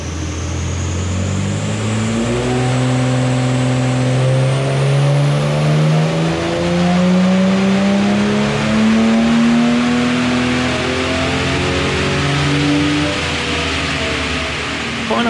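A naturally aspirated Barra engine in a car on a dyno sweeps steadily upward through its rev range on a power run, its loud, rising note drawn out over about fifteen seconds with no voices.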